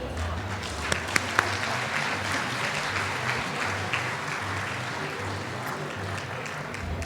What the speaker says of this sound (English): take a moment to applaud all the volunteers and performers for the evening